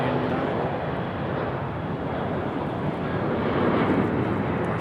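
A United airliner departs Raleigh-Durham International Airport, its jet engines giving a steady broad roar heard from a distance that swells slightly toward the end.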